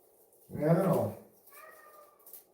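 A cat called Kitty lets out one loud, close meow, followed by a softer, higher second mew a moment later in an otherwise quiet room.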